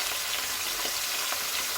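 Vegetables with chili powder, turmeric and small onions fry in a pan for varutharacha sambar, giving a steady, close, even hiss of sizzling with faint stirring scrapes underneath.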